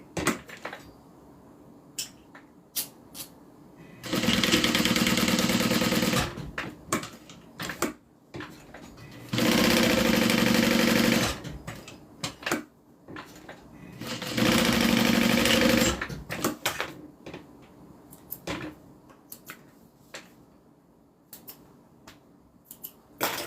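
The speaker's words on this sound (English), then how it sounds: "I'm going to go ahead and sew down the short side, across the bottom, and then back up" Sewing machine stitching down the short side, bottom and back up on a small zip-around wallet, three loud whirring bursts of a few seconds each, separated by clicks, handling noises and quiet pauses.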